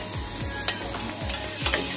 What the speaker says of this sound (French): on va faire revenir, c'est-à-dire qu'on mélange l'oignon et l'ail